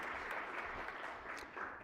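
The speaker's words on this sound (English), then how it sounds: "If you could just kindly give him a round of applause." Short round of polite applause in a state Senate chamber, many hands clapping together in a dense, even patter with a couple of sharper claps near the end.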